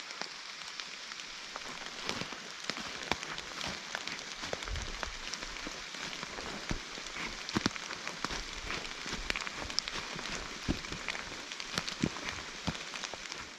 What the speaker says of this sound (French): Et puis ça pleut pas mal